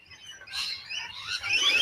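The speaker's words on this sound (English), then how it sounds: "Now you hear those birds there?" Faint, high chirping birds fill the background in a steady, busy chatter, rising slightly in intensity, with no voices over them.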